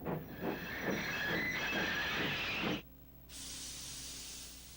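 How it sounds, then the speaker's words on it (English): Steam engine Thomas brakes at a dockside, rhythmic wheel clatter and a high metallic brake squeal, then a sudden cut to a sustained hiss of released steam. "Thomas's brakes sound like this."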